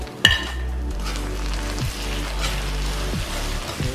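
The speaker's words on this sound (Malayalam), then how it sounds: "അതിലേക്ക് നമുക്ക് അരിഞ്ഞു വെച്ചിരിക്കുന്ന തക്കാളി കൂടെ ഒന്ന് ആഡ് ചെയ്ത് ഇളക്കിയിട്ടു" Sautéed onions and chopped tomato stirred in a pan for a vegetarian meat-style curry, with a sharp clack at the start, a soft sizzle, and occasional scraping strokes of the spoon, close and steady.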